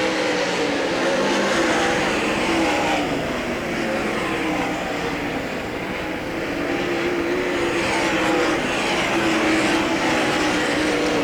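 Race cars roaring around Hagerstown Speedway during a 41-lap dirt-track feature event, a dense, continuous engine drone holding loud and steady throughout, dipping slightly midway as cars come off turn four.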